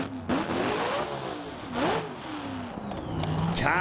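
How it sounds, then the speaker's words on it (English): A Top Alcohol drag racing car in a semi-final run accelerates with a loud, sustained engine roar, its pitch climbing and dipping through a couple of surges. "Car sounded like it got right up on the tyres there, Aaron."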